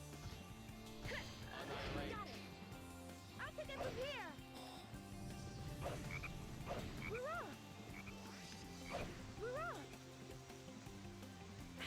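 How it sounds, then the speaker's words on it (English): Repeated rising croaks from a frog sound every second or so over a busy background of game music and effects, fairly loud and close. "Detecting a frog in the vicinity."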